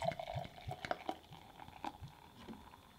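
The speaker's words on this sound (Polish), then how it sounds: "Specjalnie nalewam tak bardziej okazale, żeby się dobrze zaprezentowało." Dark stout beer poured into a glass, with gurgling, splashing liquid sounds and a few soft knocks, fairly quiet and close, with no talking.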